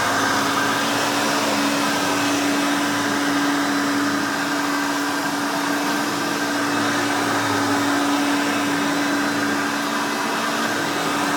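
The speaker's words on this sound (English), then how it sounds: "screaming, overly loud Hoover glory." A Hoover Elite 5.0 Limited Edition upright vacuum cleaner runs loudly and steadily, a constant close roaring whine with a sustained tonal hum, no voices over it.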